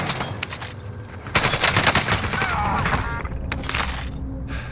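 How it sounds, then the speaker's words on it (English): Bursts of automatic gunfire in the video game Warzone, loud rapid volleys with sharp cracks that break off and resume over several seconds, no speech. "I think they were shooting me from the twin towers."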